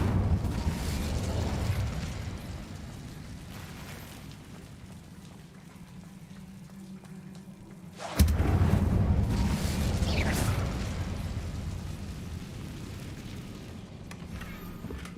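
Incendio fire spell cast in Hogwarts Legacy, a sudden loud whooshing burst of flame that swells abruptly midway and then rumbles and crackles for several seconds over a low continuous game ambience.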